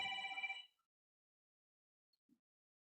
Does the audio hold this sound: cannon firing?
no